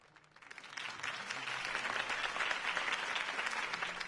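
A crowd at a political campaign rally in the Batman Telltale video game applauds, the clapping swelling from a quiet start into a dense, steady ovation that continues without speech.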